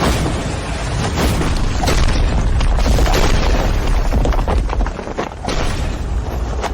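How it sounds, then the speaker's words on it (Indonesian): A loud, sustained rumbling blast with crumbling debris continues for several seconds, close and heavy, with no voices. "Suara ledakan dari mana?"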